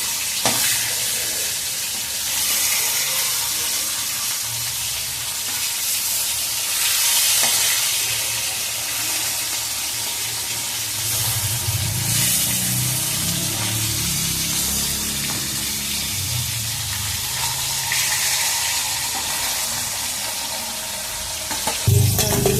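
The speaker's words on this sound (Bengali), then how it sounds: "মাছের এক পিঠ ভেজে নিয়েছি, আমি এবার আর এক পিঠ উল্টিয়ে দিয়ে ভেজে নিচ্ছি।" Hilsa fish frying in oil in a pan, a constant close sizzle with occasional bubbling and stirring noises, heard alone without talk.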